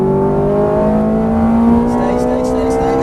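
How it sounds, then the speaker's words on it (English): Ferrari F430 engine at full throttle on a track, a loud steady roar with harmonics climbing as it accelerates, close and continuous under a driving instructor's voice. "Full throttle."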